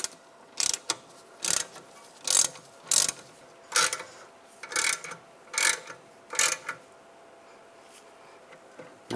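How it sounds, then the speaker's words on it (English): A ratchet torque wrench clicks in about a dozen short, evenly spaced bursts while tightening rear brake bolts on a 2004-2010 BMW X3, close and clear with no talk. "Now torque these to 22 foot-pounds."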